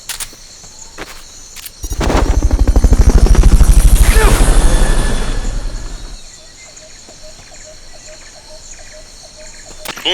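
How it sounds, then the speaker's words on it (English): Helicopter in the video game Metal Gear Solid: Peace Walker, a loud rotor thump swelling in and fading over several seconds, with game ambience before and after. "Fulton recovery subject confirmed onboard helicopter."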